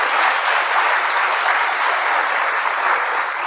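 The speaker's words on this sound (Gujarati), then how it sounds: "ત્યારે તમામ સ્થાપકોને એક વખત જોરદાર તાળીથી વધાવીએ" Hall audience giving loud, sustained applause to honour the founders at a community felicitation event: a thick, even roar of many hands clapping, close and unbroken.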